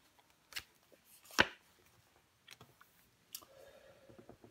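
Tarot cards are laid down one over another on a table, producing a few soft, sharp slaps and brief shuffling clicks spaced irregularly, close and quiet, with no talking.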